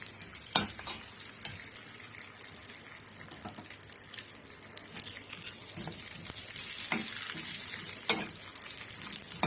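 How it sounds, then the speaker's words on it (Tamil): Cashews and raisins frying in a pan for semiya payasam: a steady close sizzle runs throughout, with occasional scrapes of stirring and no talking. "பாருங்கள் முந்திரி வந்து நல்லா பாதி ப்ரௌன் ஆகிடுது இப்போ திராட்சை போட்டுக்கலாம்"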